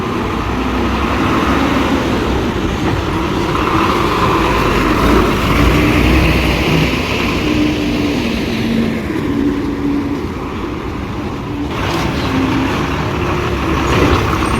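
A loud, heavy vehicle engine rumbles close by, with a hiss of air brakes as a large Ratnagiri–Chiplun bus pulls up and idles near the weekly market in Sangameshwar.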